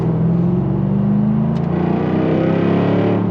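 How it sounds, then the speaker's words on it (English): 2024 Jaguar F-Type R75 engine revving, a loud, close, deep throaty roar with rising harmonic tones as the revs climb steadily over a few seconds, with no talk. "you hear that engine? That's unbelievable."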